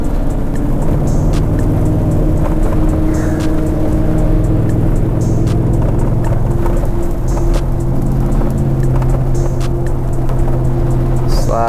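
Cabin sound from inside an 8-inch lifted, tuned Ford F150 with a 5.0 engine driving on a wet, bumpy road in the rain: a loud, steady low engine and road drone with tire hiss and occasional knocks, no talking.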